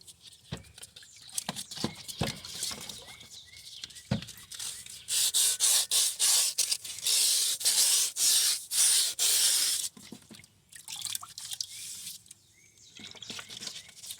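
Rusty metal is rubbed with 120 grit sandpaper in repeated scratchy strokes, faint at first and then a loud, steady stretch of rasping before easing off again.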